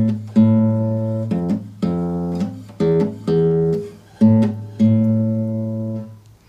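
Plucked bass line of a bambuco rhythm, low string notes falling on the second and third beats of each measure, played alone in a steady repeating pattern.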